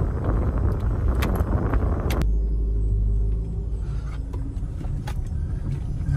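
A car driving along a rough dirt road in Death Valley National Park: a steady, heavy low rumble with wind buffeting, which drops to a quieter, smoother drone partway through.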